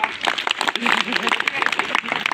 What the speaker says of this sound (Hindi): ताली बजा देने के लिए।